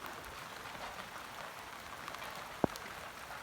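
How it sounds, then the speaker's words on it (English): Rain falls steadily on the cap of a rocket mass heater outdoors, a faint soft patter with a single sharper drop tick near the end. "it's raining on the cap"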